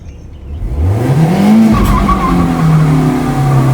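A BMW E36 engine revs hard and climbs in pitch during a burnout, loud and close, with tires squealing under the roar.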